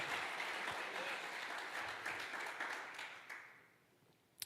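A church congregation applauds steadily, a dense wash of clapping that fades out toward the end.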